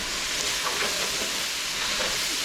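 Steady sizzle of vegetables cooking in a hot pan for a summer veggie dinner, with faint soft scrapes as savory herbs are stirred in, continuous and fairly quiet throughout.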